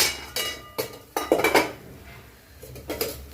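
Fish curry masala stirred in a metal pot, with loud, close clanks and scrapes of a utensil against the pot coming in irregular bursts and no talking.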